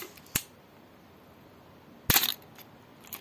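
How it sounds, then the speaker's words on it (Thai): A Canon AE-1 film camera with a faulty shutter whose curtains run without opening fires twice, giving two sharp, close mechanical clicks about two seconds apart in a quiet room. The second click is slightly longer and rattly. "ก็คือชัตเตอร์ลั่นนะ"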